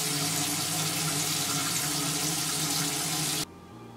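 Running tap water pours steadily into a bathroom sink while a face is wetted, a continuous rushing splash that stops abruptly near the end.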